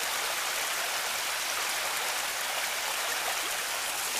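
Water trickles and spills steadily off an edge outdoors, a continuous soft splashing hiss with no voices.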